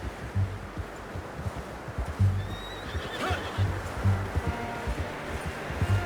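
Horse neighs and whinnies in Red Dead Redemption 2, a few calls over a steady outdoor bed of wind and rustling, with soft hoof and tack noises nearby.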